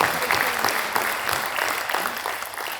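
A crowd at a Rotary district conclave welcomes guests with sustained applause, many hands clapping in a thick, even roar that stays loud throughout.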